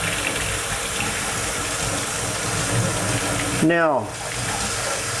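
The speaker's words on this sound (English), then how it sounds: "I'm going to wash these stones off here" Tap water runs steadily at a workbench sink while stabilized Kingman turquoise stones are rinsed, a broad rushing hiss that cuts off abruptly, with a voice speaking briefly.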